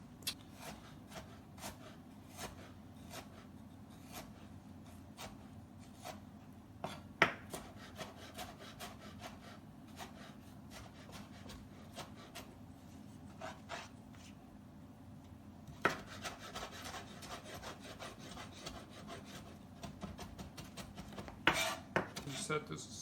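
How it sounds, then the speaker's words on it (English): Ginger skin being scraped off with a utensil in a home kitchen, a soft continuous rubbing with intermittent sharp clicks and taps of metal on a board, fairly quiet and close, without talk. "we can take the skin out of this ginger"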